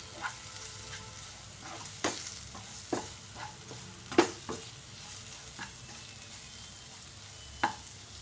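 Chili powder and coriander powder being stirred in a frying pan for a banana curry, with scattered scraping taps of a spoon against the pan over a soft, steady sizzle, each stroke short and fairly close.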